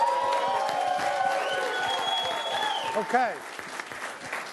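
A large keynote crowd in Times Square cheers and applauds in a sustained roar, with whistles and a speaker's voice talking over the noise before it swells again near the end.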